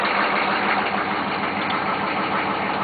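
A 1985 GMC 1500 4x4 pickup's 6.2L GM diesel engine idles with a steady, loud, close knocking clatter, with no throttle change and no voices.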